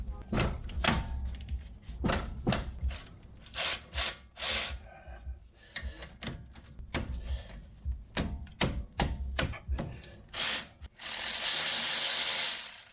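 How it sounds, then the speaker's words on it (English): Electric ratchet wrench spinning brake bolts off the front of a 2017 Toyota Corolla: a series of short, loud buzzing bursts with pauses, close up, followed by a longer steady whir at the end. "I'm just using the electric one"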